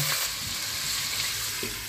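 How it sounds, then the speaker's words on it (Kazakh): Meat frying in oil in a pan for a meat strudel, a close, steady sizzle with occasional stirring sounds. "Етті осылай жақсылап қуырмалап аласыңдар, қыздар."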